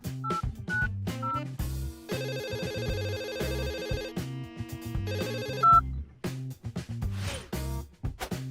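An old mobile phone rings with a bright, melodic electronic ringtone whose tune repeats steadily and fills the whole stretch, loud and close with no voices.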